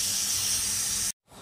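A pressure cooker cooking curry vents steam in a loud, steady, high hiss that cuts off abruptly near the end, leaving a brief silence before fainter background noise returns.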